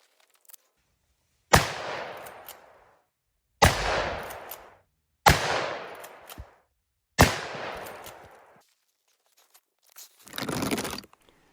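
Four loud, sharp shots of subsonic 410 grain Hornady Sub-X bullets fired into a tree, spaced a couple of seconds apart, each with a brief decaying tail outdoors, followed by a softer rustling noise.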